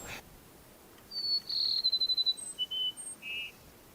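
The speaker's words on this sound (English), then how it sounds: "listen to a very, very uncommon bird in North America, Cassim sparrow" A Cassin's sparrow sings thin, high trills and sweet whistled notes in quiet open air, several short phrases close together against faint background hiss.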